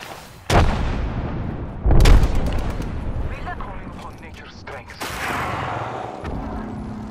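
Frag grenade blasts and gunfire in the video game Apex Legends: heavy booming bursts at about half a second, two seconds and five seconds, each trailing into rumbling gunfire, close and loud under ongoing team talk.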